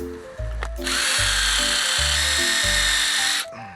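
A power drill fitted with a dull bit spins up and grinds into the workpiece until it smokes. A loud, continuous harsh whine runs for about three seconds, then cuts off, with a pulsing motor hum beneath.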